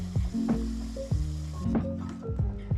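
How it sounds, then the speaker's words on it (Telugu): Six crushed garlic cloves sizzling in hot oil in a pan, then mashed sprouted moong dal stirred in, giving a close crackle broken by a few soft squishing stirs. "కచ్చా పచ్చా దంచి పెట్టుకున్న ఆరు వెల్లుల్లిపాయలు వేసి వేయించుకోవాలి"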